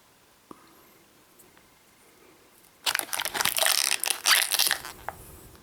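Shopkins blind bag packaging is opened after a few seconds of near quiet, bursting into loud, close crinkling, crunching and tearing of thin plastic that lasts about two seconds before fading.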